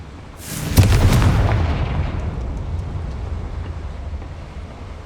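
A Confringo spell explosion in Hogwarts Legacy bursts with one sharp, loud blast, then a long rumbling tail that slowly fades.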